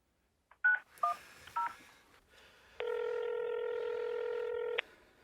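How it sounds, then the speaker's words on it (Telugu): Keypad tones ring out as a phone number is dialed on a mobile in a Telugu short film: three short, separate beeps, then one steady tone of about two seconds, close and clear with no talk over them. "ఫ్రెండ్కి కాల్ చేయి"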